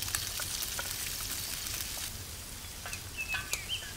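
Carrots searing in rendered fat from smoked pork, a steady loud sizzle and crackle with a few sharp pops near the end, close up and with no voices.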